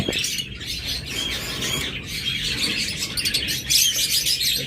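Master-pair lovebirds, including opaline birds, keep up a busy, high chirping with occasional squawks, close and continuous, and nobody speaks.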